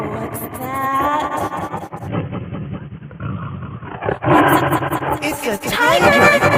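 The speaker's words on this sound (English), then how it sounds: "It's a tiger!" A tiger roars repeatedly in loud, rough bursts, with a sharper burst near the end, while people talk and call out excitedly over the sound.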